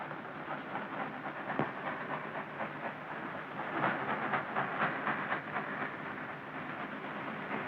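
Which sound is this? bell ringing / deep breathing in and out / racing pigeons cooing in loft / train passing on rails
train passing on rails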